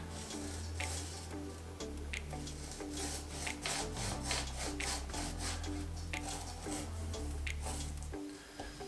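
Hand saw cutting through a Portulacaria afra bonsai trunk, steady back-and-forth rasping strokes close up, with a continuous musical backing underneath.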